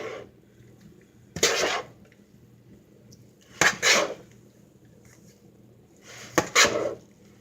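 A spoon or whisk clinks and scrapes in a bowl of perogy dough mixture of egg and evaporated milk, in three short clattering bursts separated by quiet pauses, close and fairly loud.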